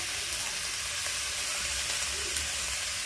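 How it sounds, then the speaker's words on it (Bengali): Hilsa fish head frying in a pan for ash gourd ghonto, a steady, close, even sizzle with a faint crackle running alone throughout. "আমি ভালো করে ভেজে নেব"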